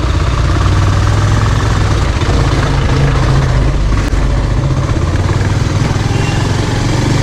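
A Bajaj Pulsar 150 motorcycle engine runs steadily on a rough off-road track. The drone is loud, continuous and close, with no talking over it.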